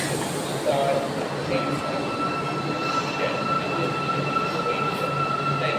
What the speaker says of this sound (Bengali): The train approaching platform Please stand on the side